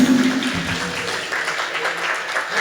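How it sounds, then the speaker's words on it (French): Audience applause from the public at a sung-performance evening with dinner, a steady, moderately loud clapping that fills the room, with a brief voice at the very start. "Vous pouvez vous applaudir."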